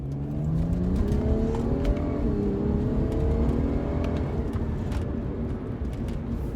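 Tuned 2012 BMW 135i with DCT gearbox and N55 engine accelerating hard, engine note rising steadily through a gear with a smooth upshift, heard loudly from inside the car with no talking.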